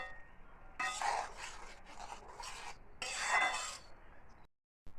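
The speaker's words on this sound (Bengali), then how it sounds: "এখন আমি ভালো করে মশলাটাকে কষিয়ে নেব।" Spice paste being stirred and fried in a pan with a utensil, a few soft scraping strokes and faint sizzling, close and fairly quiet.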